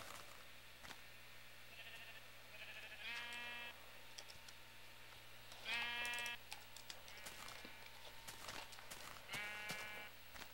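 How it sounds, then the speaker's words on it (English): Sheep bleat in a Battle Ground UHC video game: three clear, wavering bleats a few seconds apart, with fainter bleats and light clicking between them over a quiet background. "But all these freaking sheep."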